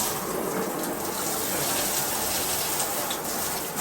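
Continuous hiss of water streaming from a new shower head, a steady bright spray with small fluctuations in flow and no voices.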